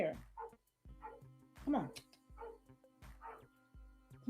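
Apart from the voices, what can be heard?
dogs barking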